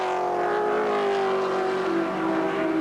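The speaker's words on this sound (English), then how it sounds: "He's got a BMW chasing him up the hill, which would be, of course, Jim Richards." A BMW touring car climbs the hill at the 1982 Bathurst race, its engine a strained, sustained whine with pitch sliding as it drives past, heard through a broadcast with no commentary over this stretch.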